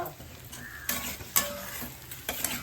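A ladle scrapes and stirs egg masala in a pan during home lunch cooking, soft sizzling underneath with a few sharp metallic clinks against the pan.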